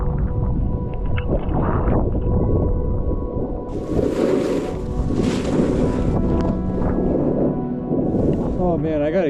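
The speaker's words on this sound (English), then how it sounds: "Super windy out there." Strong wind gusting at a ski mountain on opening weekend, a loud steady roar and rumble buffeting the microphone for the whole stretch, with people talking over it.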